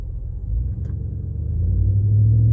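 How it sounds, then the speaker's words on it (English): A 2019 Ram 1500 with a 5.7 HEMI and muffler delete idles at a traffic light, giving a steady low rumble that swells a little toward the end, close and with no voices. "I'm just sitting at the light with an idle."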